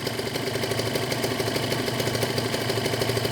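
A Kawasaki Ninja 150 RR two-stroke motorcycle idles steadily while warming up, around 1200 rpm. The engine sound is close and even, with a rapid regular pulsing and no revving.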